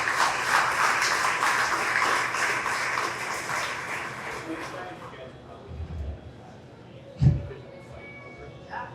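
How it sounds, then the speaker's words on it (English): An audience at a county fair opening ceremony claps loudly for several seconds before the applause fades out and a voice speaks over the quieter room. "please give them all a round of applause"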